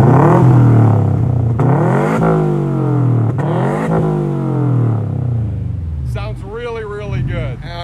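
A Subaru four-cylinder engine with a newly fitted exhaust muffler revs up and down several times with a low, deep burble, loud and close, and a voice briefly speaks near the end.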